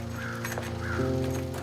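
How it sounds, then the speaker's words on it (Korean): Crows caw in two hoarse, drawn-out calls, fairly close and clear over a steady low background drone. "까마귀의 울음소리가 예사롭지 않게 들려오던 그곳에서"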